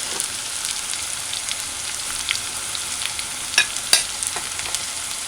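A garlic clove frying in a pan over a medium-low stove, a steady bright sizzle with occasional louder pops and crackles, close and alone without talk.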